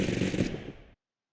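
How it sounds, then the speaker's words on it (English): A short burst of rapid gunfire in a shooter video game, dense cracking shots lasting under a second before cutting off sharply into silence. "you're looting and you just heard gunshots"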